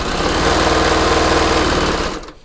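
A sewing machine runs steadily, stitching stretch fabric with Seraflex thread at a 2.0 mm stitch length: loud, fast, even needle clatter close by, slowing and stopping at the end.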